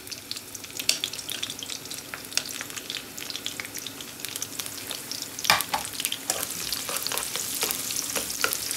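Onions and cumin sizzle steadily in hot oil in a wok, a continuous close crackle with scattered sharper pops and stirring scrapes throughout, no talking.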